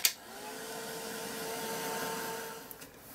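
A handheld heat tool drying gesso on a mixed-media art journal page blows a steady, close, hissing whir for about three seconds, starting with a sharp click and ending as it cuts off.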